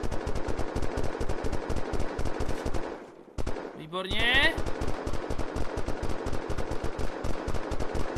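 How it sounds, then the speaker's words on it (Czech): Sustained automatic machine gun fire in the video game Unturned, rapid even bursts that run loud and nearly continuous, with a short pause in the middle and someone speaking briefly over it. "Aspoň, že tenhle ten kulomet nedělá žádný výbuchy."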